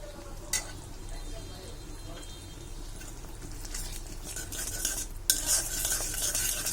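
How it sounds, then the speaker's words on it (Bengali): A curry with coriander powder is stirred in a pan for a dai begun dish, steady scraping and faint sizzling throughout, with a sharper clatter near the end; a voice talks quietly in the background. "সব মিশিয়ে দেব।"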